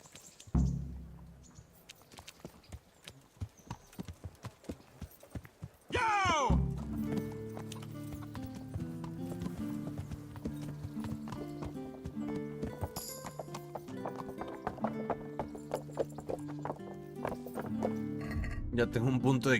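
A horse in Kingdom Come: Deliverance clip-clops in sparse hoofbeats, then lets out a loud neigh and carries on with quick, steady galloping hooves as someone talks over the game sounds.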